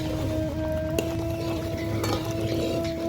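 A spoon stirs roasted semolina in a pan, making soft scraping and shuffling with a couple of sharp metallic clinks over a steady hum.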